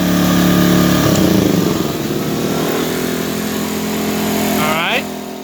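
An iPower SUA2300i portable generator running loudly close by, then being shut off as its engine note winds down and dies away.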